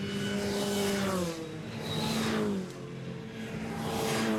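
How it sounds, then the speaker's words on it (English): Supercharged Mini Cooper race cars at Oulton Park, engines rising and falling with a high whine as they pass one after another, loud and close, with no talk over them. "The whine of the superchargers on these Mini Coopers."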